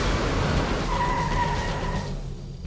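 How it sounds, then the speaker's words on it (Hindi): A car's tires skid and squeal in a loud, continuous screech over a low rumble, then cut off and fade near the end, with no voices. "लगता है गाड़ी का टायर फट गया।"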